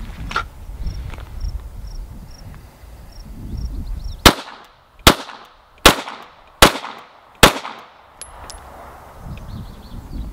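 Five pistol shots fired one at a time in a slow, steady cadence at a shooting drill, each a sharp, loud crack followed by a brief decay, spaced under a second apart over faint background insect chirping.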